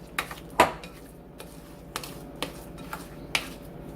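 Watergate salad ingredients, marshmallows and canned pineapple among them, being stirred together in a bowl, giving sparse sharp clicks and taps of a utensil against the dish, fairly close, with quiet gaps between.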